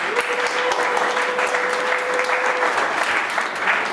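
A church congregation applauds steadily for the whole four seconds during a worship service, a dense crowd clap with a faint sustained tone running beneath it for most of the stretch.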